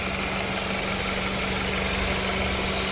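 A 2003 Honda CR-V LX engine idling steadily, a constant close hum with a low drone and even mechanical vibration throughout, no voices over it.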